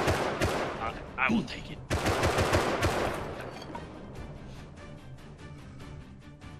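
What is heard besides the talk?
gunfire in Rust video game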